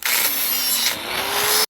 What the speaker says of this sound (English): I'm trying to grind that off with that flapper disc